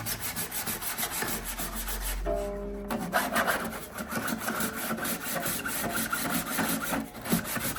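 Sandpaper rubs back and forth over the wooden body of a broken oud under repair, a close, steady rasping with a short tonal hum partway through, no talk.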